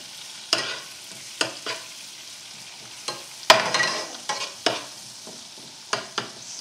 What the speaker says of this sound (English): I'm going to put the garlic in now so that can start browning as the butter is melting